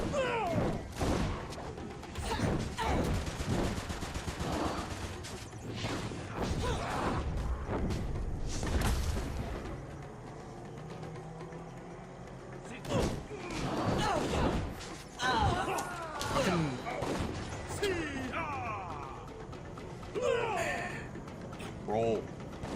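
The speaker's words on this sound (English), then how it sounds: "this is our explosion of, or our version of explosive barrels" Explosive barrels blowing up in the Dungeon Siege 3 video game, a run of loud booming blasts and crashing impacts over about twenty seconds amid combat noise, with voices talking in between.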